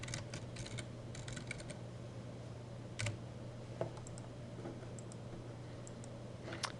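Quiet computer keyboard typing, scattered light key clicks in short bursts with gaps, close and faint over a low steady hum, with no voices.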